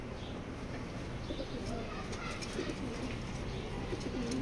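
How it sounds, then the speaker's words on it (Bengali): Racing pigeons in a loft with a pedigree racer, giving soft low coos against steady background noise, fairly faint and close. "রেস করা কবুতর"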